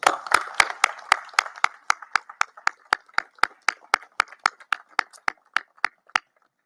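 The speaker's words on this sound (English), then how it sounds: "So let's give them a big round of applause." A high school graduation audience applauds parents and families, starting as a dense crowd clap and quickly thinning to a single nearby pair of hands clapping in a slow, even rhythm that stops abruptly.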